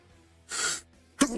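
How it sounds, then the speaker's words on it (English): A single close sneeze from a person, a sharp breathy burst followed after a brief pause by a quick second exhale or gasp, with quiet background otherwise. "I stay sneezing in these videos."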